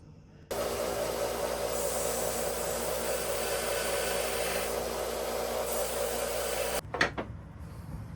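A knife being sanded down for a conversion gives a loud, steady motor whine with hiss that starts abruptly and holds for about six seconds, then cuts off with a short clatter and winding down.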